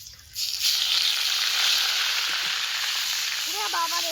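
Pieces of meat dropped into a hot pan at an outdoor picnic cook with a loud, steady frying hiss that swells after a brief quieter start, with faint voices in the background.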